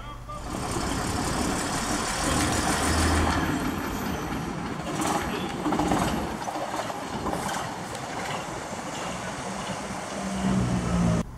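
AEC bus from the St Helens fleet, number 260, heard from on board during a museum running day, with a steady loud engine drone and rattling cabin noise throughout.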